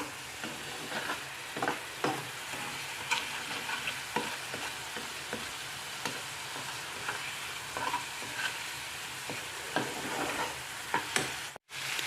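Fish curry masala with spices being sautéed in a pan with a splash of water, a soft continuous sizzle broken by regular scraping stirs of a spoon, close and quiet with no talk.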